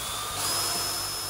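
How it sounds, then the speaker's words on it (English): Step drill bit cutting a hole, a close, continuous whining drill sound that swells briefly then steadies. "Start drilling, and with each step of the drill, you're getting a larger and larger hole."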